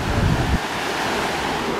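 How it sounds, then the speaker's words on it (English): Ocean waves heard from the deck of a cruise ship wash continuously beneath heavy wind noise, with a stronger low rumble of surf and wind in the first half second before settling into a steady hiss. "I'm trying to show y'all the waves, but you really can't see it."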